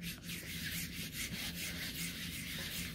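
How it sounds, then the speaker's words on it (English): A flat plastic board rubs gently back and forth over polymer clay, a soft, close, continuous scraping swish in steady repeated strokes with no talking. "flat piece of plastic board, and I just gently rub over in all the directions"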